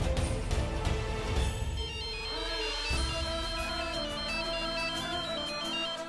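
A phone ringtone plays steadily and clearly, a repeating electronic melody sounding alone with no talking.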